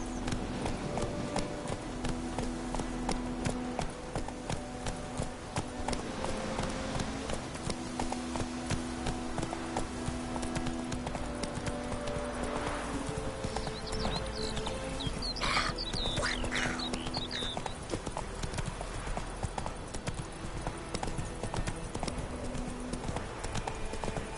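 Roach, the horse in The Witcher 3, moves along with rhythmic hoofbeats in a steady clip-clop, continuous and fairly prominent over game ambience and music, with a brief higher sound partway through.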